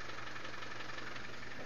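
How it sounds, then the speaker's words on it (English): Land Rover Defender engine running in gear with the front wheels jacked up off the ground, giving a steady continuous drivetrain hum and rumble throughout, with no talking. "If we put the vehicle in gear and drive, the front wheels will spin."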